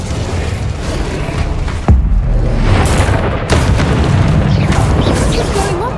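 The Incendio fire spell in Hogwarts Legacy goes off as loud, booming bursts, one sharp blast near the start and another shortly after, followed by a crackling roar while a voice speaks.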